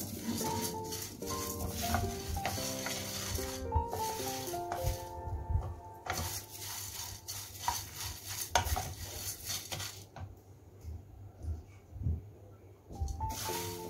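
Curry leaves and dried red chillies roast in a pan for idli podi, with steady stirring scrapes, metal clinks of a spoon against the pan and a soft background crackle, close and moderately quiet.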